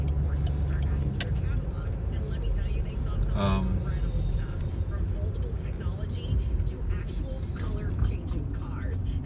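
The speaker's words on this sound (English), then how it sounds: "Wow, there's so much traffic on the road, I can't get over." Busy road traffic near a roundabout, a steady, dense roar of passing cars with a brief brighter whine in the middle, and voices talking over it.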